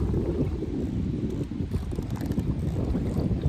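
Wind gusts over the Elk River on a sunny day, buffeting the microphone with a loud, low rumbling roar that fluctuates but never lets up, with faint water sounds beneath.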